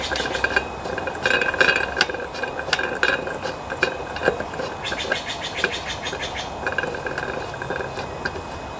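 Metallic clinks and light ratcheting as a nut is threaded and tightened onto the blade of a John Deere lawnmower with a Briggs engine, steady close tool sounds over a faint background hum.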